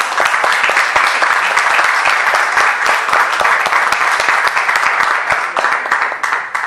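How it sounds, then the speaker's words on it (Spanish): An audience at a round-table talk gives sustained, dense applause with crisp individual claps, steady throughout and tapering only slightly at the close. "Le daremos un aplauso para que se recupere."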